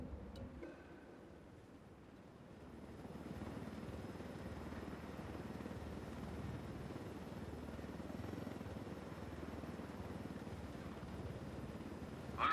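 A helicopter flies low through a canyon in Ghost Recon Wildlands, its steady low rotor rumble and broad engine roar droning continuously at moderate distance with no talking over it.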